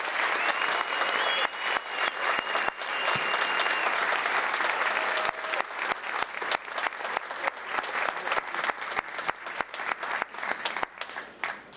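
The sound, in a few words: audience applause for recognized students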